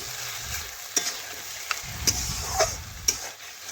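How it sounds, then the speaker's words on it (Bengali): Chicken, potatoes and chilli powder stirred in a pan over a clay stove, a soft continuous sizzle broken by several sharp scraping knocks of the spatula, close and alone. "এখন ভালোভাবে নাড়াচাড়া করে লঙ্কা গুঁড়ো আর আলু ভালোভাবে দেখুন চিকেনের সাথে মিশিয়ে নিচ্ছি"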